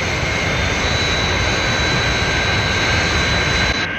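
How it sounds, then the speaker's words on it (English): The Fireflash jet airliner's engines roar in a continuous, loud, broadband blast with a high whine riding on top, steady throughout and cutting off abruptly at the very end, with no talk. "That's certainly some aircraft."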